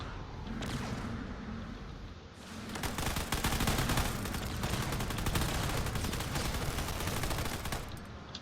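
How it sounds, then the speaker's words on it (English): Heavy, continuous cannon fire from cruisers in a Drone Wars space battle, a dense rapid stream of loud shots that swells after a short lull and keeps pounding with no voice over it. "You can see there's a lot of cannon fire also moving in as well"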